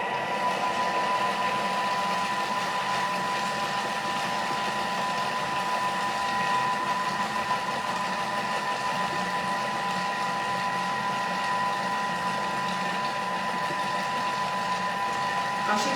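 A Thermomix whisking muffin batter for chicken, cheddar and spinach muffins at speed 5 gives a steady, continuous motor whir with a faint high tone, unchanging and close throughout.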